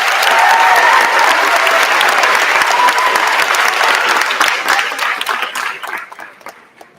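A crowd at an 8th grade promotion ceremony gives a loud round of applause, full and sustained, then tapering off over the last couple of seconds.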